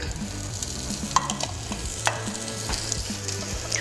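Carrots, celery and skinned onion hit hot oil in a pan, giving a steady close sizzle with a few sharp crackles and utensil clicks throughout.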